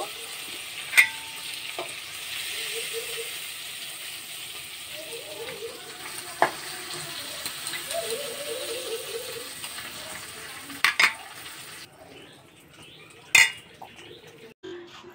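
Prawns sizzle softly in a pan as they fry lightly, a low crackle under occasional sharp clinks of a utensil against the metal, fading quieter toward the end.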